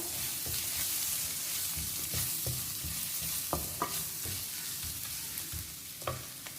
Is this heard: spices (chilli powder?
yes